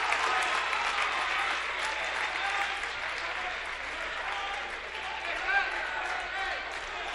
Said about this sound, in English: Lord have mercy, this crowd is into it